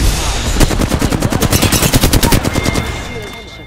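Rapid automatic gunfire in the battle royale game Apex Legends, a loud sustained burst of evenly spaced shots lasting about three seconds before tailing off.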